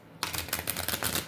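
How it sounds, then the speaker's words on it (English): Tarot cards are shuffled in a quick run of crisp, riffling snaps that start abruptly and continue rapidly, close and alone without talk. "Allow me to shuffle."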